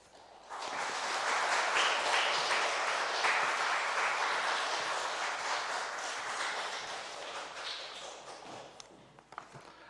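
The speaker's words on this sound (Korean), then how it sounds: "목사님 나오셔서 말씀 전해주실 때 박수로 환영해 주시면 고맙겠습니다." A church congregation applauds to welcome the pastor, a dense, loud wash of many hands that swells quickly, holds steady, then thins out toward the end.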